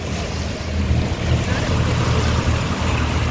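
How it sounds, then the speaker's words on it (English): Sea waves wash around a sailboat at sea, a steady rushing surge with low, rumbling wind buffeting the microphone throughout. "Some of the waves are kind of big."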